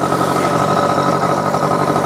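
A Yamaha F1ZR two-stroke motorcycle engine with a vibrating motor and an exhaust not yet fully free-flowing, running steadily at a constant rev with a close, loud buzzing drone.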